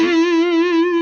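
Overdriven electric guitar through a Nux Mighty 8 amp, a single sustained lead note with a biting, harmonically rich tone and gentle vibrato, about a second long, loud and alone.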